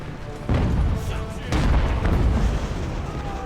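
Heavy booming cannon fire in the naval and land battle game Ultimate Admiral: Age of Sail, with a couple of louder blasts rising over a continuous dense rumble of battle noise.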